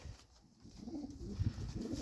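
Soft, low coos from white pigeons close by, a few throaty murmurs over faint background noise.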